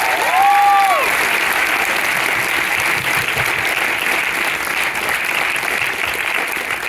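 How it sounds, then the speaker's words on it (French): A cinema audience at a preview screening applauds a director, dense and loud sustained clapping filling the room nearly from start to finish, with a brief tonal sound at the outset. "Donc on peut l'applaudir déjà pour ça."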